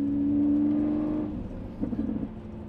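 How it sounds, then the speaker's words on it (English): A Lamborghini Aventador with a custom exhaust idles in a steady low drone, then a short, irregular cluster of crackling burbles pops out near the end, close and moderately loud. "Some little burbles there"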